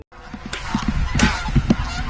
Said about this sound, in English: a flock of geese appear directly overhead